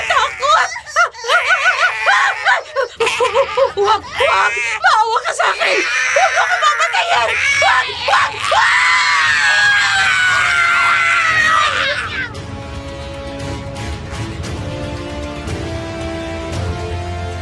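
A woman screams loudly and at length in a dramatized Filipino horror story about an aswang, with high, wavering shrieks and frantic cries, and bursts of laughter-like voices mixed in before a low, droning musical tail takes over.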